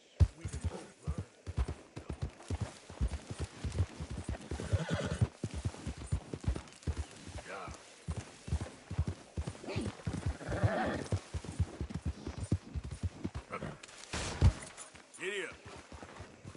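A horse in Red Dead Redemption 2, its hooves beating a quick, steady clip-clop throughout, with a loud whinny near the end and someone speaking at times.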